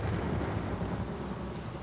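Thunderstorm with rain in the video game Uncharted: The Lost Legacy: a continuous low rumble of thunder over a steady wash of rain, moderately loud, with no voices.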